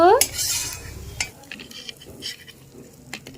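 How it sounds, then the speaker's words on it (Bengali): Fried garlic cloves scooped out of a pan with a metal utensil, giving scraping and clinking scrapes against the pan, with a soft sizzle of oil fading after the first second. "তো চলো এবারে রসুনগুলিকে উঠিয়ে নেব।"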